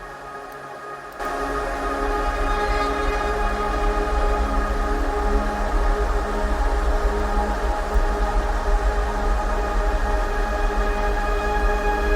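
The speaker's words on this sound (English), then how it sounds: "you basically have your core really big wide pads" Broad, sustained synth pads hold a dense, steady drone, with a faint airy swell early on; no distinct whooshes stand out.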